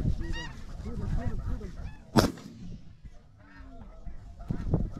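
A flock of snow geese honks steadily during a waterfowl hunt, a dense chorus of overlapping calls with a sudden sharp crack partway through, then the honking swells again.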